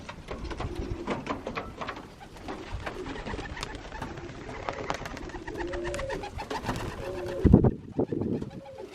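Young pigeons coo around a loft, soft repeated burbling calls under clattering wing flaps and scuffling, with a louder bump near the end and no voices.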